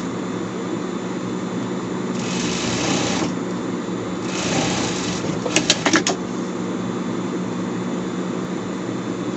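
A sewing machine stitches the front trim onto a pet shirt in two short runs of steady mechanical whirring, followed by a few sharp clicks, over a constant background hum.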